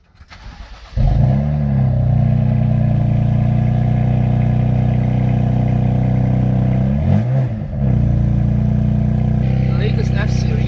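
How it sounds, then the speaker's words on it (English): A BMW M4 on its stock exhaust cold-starts with a brief crank, then settles into a loud, steady high idle that holds close and constant, with a short dip partway through. "first of all, the cold start with the stock exhaust."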